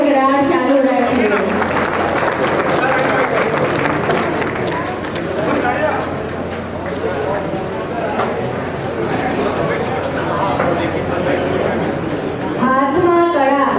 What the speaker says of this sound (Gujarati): આપ સર્વને વિનંતી છે કે તાળીઓનો ગડગડાટ ચાલુ રાખીએ